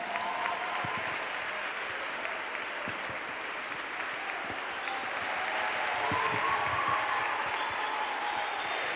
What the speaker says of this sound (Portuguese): recebam o pastor Emerson e o irmão Machado com uma salva de palmas, amém?